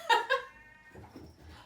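A pet cat lets out two short, loud meows close by, followed by quiet rustling and faint background noise.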